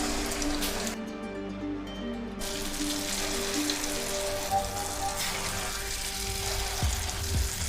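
Pumpkin-filled dough balls (burelu) deep-frying in hot oil, a steady crackling sizzle with popping bubbles that runs throughout, fairly close and even in loudness.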